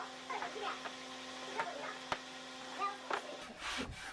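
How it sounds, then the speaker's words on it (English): Wooden planks are worked by hand with a plane and sandpaper to a smooth surface, giving soft repeated scraping and rubbing strokes with light knocks, close and fairly quiet. "Each plank is then meticulously planed and sanded to achieve a smooth,"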